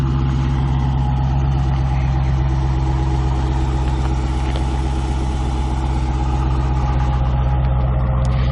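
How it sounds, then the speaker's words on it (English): A 2015 Dodge Challenger R/T Scat Pack V8 idles with a deep, steady, rumbling burble, loud and close, with no one talking. "Probably one of the best sounding new vehicles I've ever heard."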